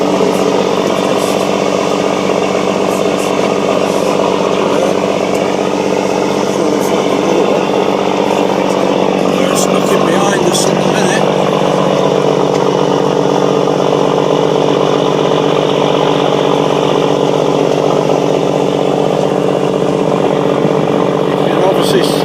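A motorcycle engine drones steadily and loudly throughout, its exhaust note holding a constant pitch while riding, with a voice faintly underneath.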